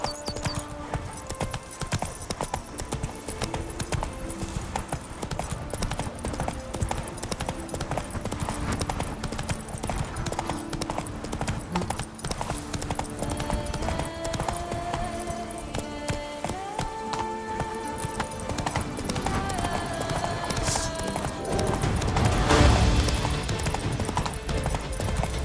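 Roach, a horse in The Witcher 3 game, trots with a steady, continuous clip-clop of hooves across the whole stretch, with game music beneath and a brief louder burst near the end.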